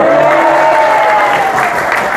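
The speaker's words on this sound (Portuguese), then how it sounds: "Pensei que vocês iam dar um aplauso, irmão." A church conference audience applauds in a steady wash of clapping, with a sustained voice or tone carrying over it.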